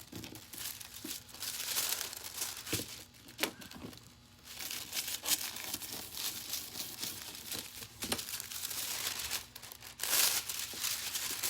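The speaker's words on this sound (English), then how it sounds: "that's what we do with the stylus and the scrub brush. It's forcing the foil down into the openings" Foil is pressed down into the openings of an ornament with a stylus and a scrub brush, making soft, continuous crinkling and scratchy rubbing with a few sharper crackles, quiet and close, with no talking.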